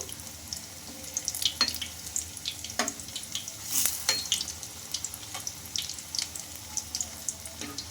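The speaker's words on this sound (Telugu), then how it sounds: "ఇంకొక సైడ్కి అయితే తిప్పేసుకోవాలి రెండు వైపులో బాగా ఫ్రై చేసుకోవాలి" Food frying in a pan and being turned over, a moderate sizzle broken by clicks and scrapes of flipping, close and steady throughout.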